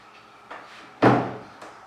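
Out-swing double doors are tested from the outside after installation: a soft knock or latch click comes first, then one solid thud as a door shuts close by, followed by a lighter click, with no talking.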